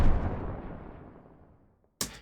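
Layered sound-design effect of a firework leading into an explosion: a loud, booming blast up front decays into a long rumbling tail over about two seconds, then a short sharp crackling burst hits at the end.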